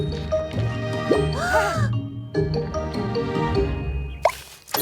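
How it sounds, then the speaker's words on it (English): A single water drop falls from a blade of grass and plops with a small liquid splash amid a busy, musical background, with a brief voice-like warble partway through. "that drop of water falling off that blade of grass"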